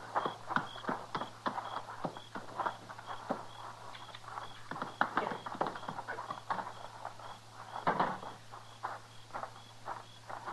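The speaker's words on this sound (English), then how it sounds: "Get his horse inside." Horse hooves clip-clopping on a hard floor as the animal is led indoors in an old Western radio drama, a steady irregular run of close hoof knocks with no talk.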